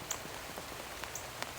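Rain falls in a garden, soft scattered drops ticking and tapping on surfaces over a faint steady hiss, close and irregular, with no talking.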